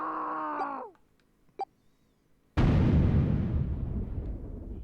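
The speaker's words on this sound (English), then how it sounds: "The explosion rocked the room." An explosion in the video game 999 bursts in suddenly and loudly, a broad roar that slowly decays over a couple of seconds, following a wailing voice and a short quiet gap.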